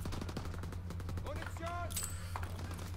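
Rapid automatic gunfire in a first-person shooter video game, a fast train of sharp shots over game background noise, with speech likely mixed in.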